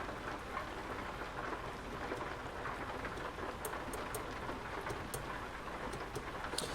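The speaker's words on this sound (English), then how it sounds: "It's starting to be the rainy season here in Oregon" Steady rain during the Oregon rainy season, a dense constant patter with scattered sharper drips, heard alone at a moderate level.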